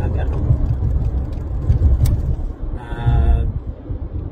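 Low, steady engine and road rumble fills the inside of a moving car, with people talking over it the whole time.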